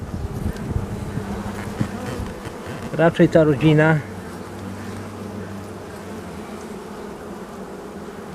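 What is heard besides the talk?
young healthy honeybees buzzing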